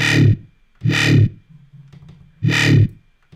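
A distorted, growling synth bass made in Reason hits three times in a slow pulse, with a short room-reverb tail and a low sustained tone between hits.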